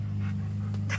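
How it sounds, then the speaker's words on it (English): A female dog pants steadily with soft hacking breaths, close and fairly quiet, over a low steady hum in a Central Texas yard. "That's my dog hacking like that"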